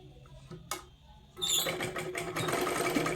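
Stitching on blouse fabric with a sewing machine starts after soft handling noises and a click, building into a continuous, close mechanical whir with fast needle patter.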